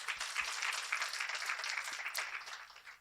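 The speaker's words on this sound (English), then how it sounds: "Let's give her a round of applause." At a Women of Distinction event, an audience claps for a Brooklyn College student athlete who sang the national anthem, a brief, moderately loud burst of applause with a steady patter and no talking.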